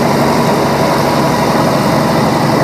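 A Minneapolis-Moline CA tractor engine runs steadily in a parade at Rollag, a loud, close, continuous chugging drone that holds an even level throughout with no talking.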